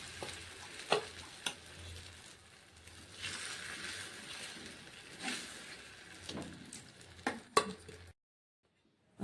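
Batter hits an oiled hot pan on the stove and sizzles steadily, a soft close hiss with a few light clicks and scrapes, cutting to silence at the end.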